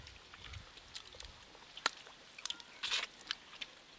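A person chews a spicy oil-based fish curry, bones included, producing quiet, close-up crunching and squishy bites in irregular bursts against a soft background.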